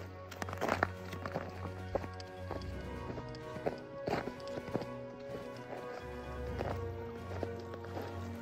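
Footsteps crunch steadily along a frozen creek on a winter hike toward a frozen waterfall in Alberta, Canada, close and rhythmic over a faint low hum.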